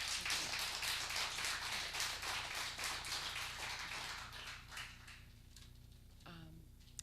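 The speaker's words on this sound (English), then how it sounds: "I'm just going to ask if we could hold the applause." A council meeting audience applauding, dense clapping that gradually thins out and fades after several seconds, leaving a quiet room with a brief voice at the end.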